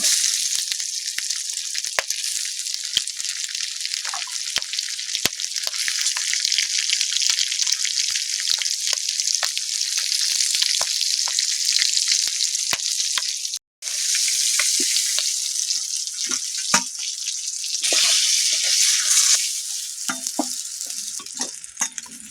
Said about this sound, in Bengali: মাছগুলো একে একে ভেজে নেব।